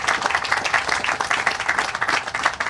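Groundbreaking ceremony crowd for a Chicago Housing Authority housing development, applauding continuously at moderate volume, a dense wash of clapping with no voices over it.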